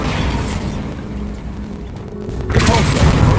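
A Bombarda blasting spell goes off in the Hogwarts Legacy video game, a loud rumbling blast swelling after a couple of seconds of dense low roar, with a crackling, debris-like burst closing the moment.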